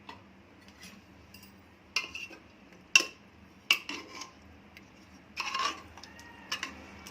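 Cooked dill and coriander greens are mashed in a pot, giving soft, intermittent metallic clinks and scrapes of the utensil against the pot. The strokes come in irregular, fairly quiet bursts with gaps between them.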